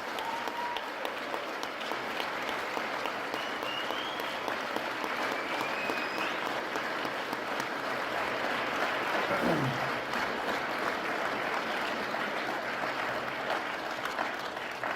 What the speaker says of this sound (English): let's offer them all a well-deserved round of applause for their efforts